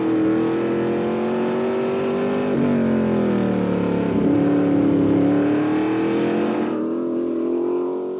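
A Formula 5000 race car engine of 500 to 600 horsepower roars loudly at high revs on board at Ruapuna, pitch climbing and dropping through gear changes as the car drives on, continuous and close.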